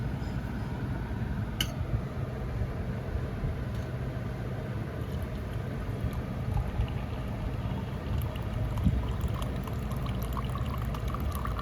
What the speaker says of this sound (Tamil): இன்னும் கொஞ்சம் கூட தண்ணி ஊற்றிக்கலாம்